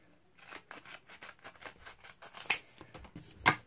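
Scissors snip through foam pad squares for card making, a quick series of small cuts close by with two sharper, louder snips near the end, no talking.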